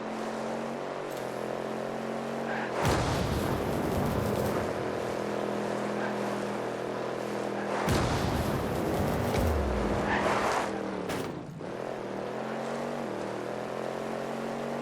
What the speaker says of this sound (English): I like the way the engine sounds.